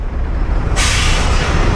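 A loud burst of air-brake hiss from big trucks on a busy Priuk road cuts in partway through, layered over constant heavy traffic rumble.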